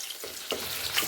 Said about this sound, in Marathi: मी थोडंसं 2 ते 3 चमचे तेल टाकलेले आहे आणि त्यामध्ये आपलं पनीर फ्राय करून घेत आहे किंवा भाजून घेत आहे।